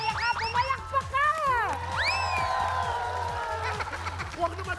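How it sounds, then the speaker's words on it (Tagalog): Studio audience on a celebrity game show claps and cheers, with excited whoops and shouted voices rising over a steady wash of applause throughout. "Palakpakan daw!"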